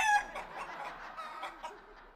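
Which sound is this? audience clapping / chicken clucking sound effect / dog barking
chicken clucking sound effect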